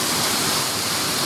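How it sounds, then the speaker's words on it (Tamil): Hogenakkal waterfall flowing, a loud, steady broadband roar of rushing water that fills the moment without any voices. "பாருங்கள் அருவி எப்படி போகுது பாருங்கள்"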